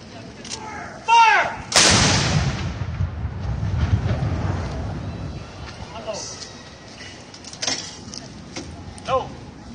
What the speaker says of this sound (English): Number one, fire.